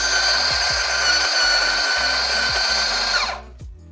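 A built-in burr grinder on an espresso machine grinds coffee directly into a portafilter, making a loud steady whirring buzz close up for about three seconds, then winding down abruptly, with faint knocks underneath.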